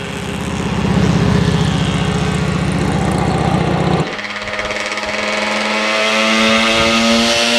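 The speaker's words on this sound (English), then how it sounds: "I got one with the engine at full throttle where I could really hear that nice exhaust note" A restored 1985 Yamaha RZ350 two-stroke motorcycle, loud and close, its exhaust holding a steady high-revving buzz at full throttle before dropping abruptly to a lower droning note.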